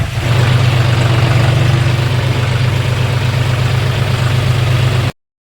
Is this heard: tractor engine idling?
yes